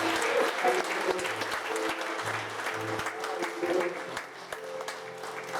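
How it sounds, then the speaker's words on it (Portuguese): A church congregation at a conference service applauds loudly and steadily for several seconds, a dense continuous clapping with faint voices mixed in. "E a igreja diz: vamos aplaudir ao Senhor bem forte."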